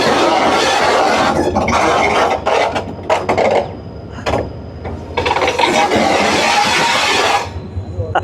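A train locomotive runs toward a turntable at Mirpurkhas, heard from on board. Loud continuous rumble and rattling with clanking and hissing bursts, the noise briefly easing in the middle before surging again.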